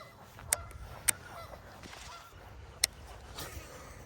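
Several geese honk near a spring fishing spot, three sharp, loud calls spaced irregularly over a quiet outdoor background, with fainter honks between them and no talking.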